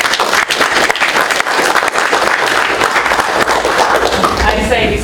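A seminar audience applauds steadily after a talk on sustainable shipping, a dense, even clapping that carries on with some voices mixed underneath.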